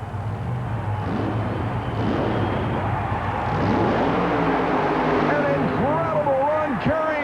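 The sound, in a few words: super modified mud racing machine launching off starting line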